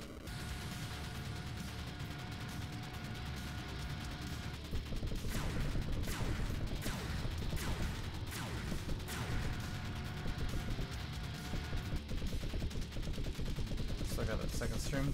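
Rapid machine gun fire in the Iron Meat run-and-gun game during a boss fight, dense continuous bursts with explosions and game sound effects, while a player talks over it.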